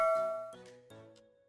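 A short bright notification chime rings a few quick bell-like tones, clear and close, then fades out with nothing else audible.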